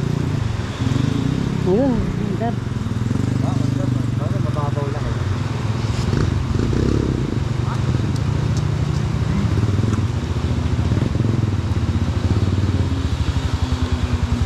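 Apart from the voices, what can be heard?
enduro trail motorcycle engine starting and running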